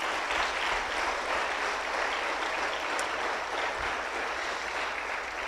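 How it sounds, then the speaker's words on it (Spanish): A church congregation claps together during a sermon, a steady wash of many hands heard at moderate distance, continuous throughout with no voices over it. "Dale palmas a Jesús,"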